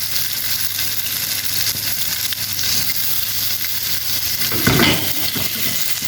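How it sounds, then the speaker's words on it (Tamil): Marinated fish shallow frying in a little oil, giving a continuous close hiss and sizzle with a brief louder bubbling flare near the end, no talking. "லைட்டாக எண்ணெய் விட்டு அதிலே நீங்கள் ஷாலோ பண்ணி ஃப்ரை பண்ணி எடுத்துக்கலாம்"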